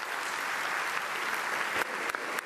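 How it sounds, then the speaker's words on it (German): Delegates at a CSU party conference applaud, a dense, steady wash of clapping from a large hall crowd, with a few sharper nearby claps standing out toward the end. "Applaus"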